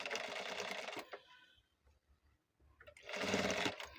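A sewing machine stitches a blouse in two loud, steady bursts of running, separated by a quiet pause with faint handling noises.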